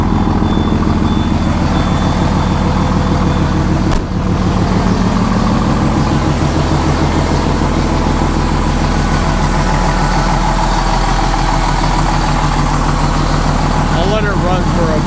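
Vehicle engine idling with a deep, steady rumble and a whirring fan from a fan clutch that needs fixing, loud and continuous throughout, with one brief knock.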